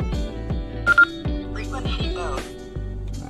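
Short electronic beeps and tones sound in quick succession as a Baofeng UV-82HP handheld radio transceiver powers on, with a constant low hum underneath.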